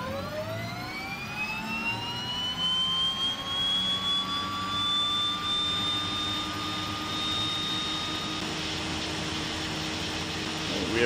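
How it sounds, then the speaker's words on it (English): The left engine of a DHC-6 Twin Otter turboprop starts up in a flight simulator game, with a rising turbine whine that climbs steadily in pitch over a constant rumbling background, heard up close and alone. "engine start."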